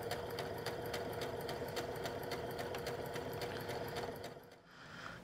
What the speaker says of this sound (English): So I'm just sewing down the waistband.